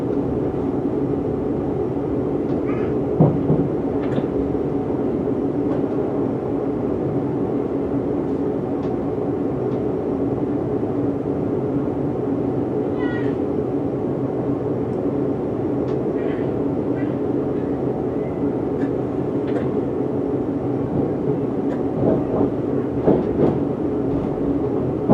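A Watford DC Line electric train runs into Watford Junction station, a steady low rumble and rolling hum with faint rail clicks and brief squeals near the end, heard from the cab.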